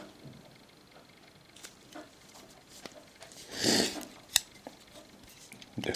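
A Leatherman Charge multitool's saw blade is folded out: a soft scraping rasp, then one sharp metallic click, both close and quiet against a near-silent room.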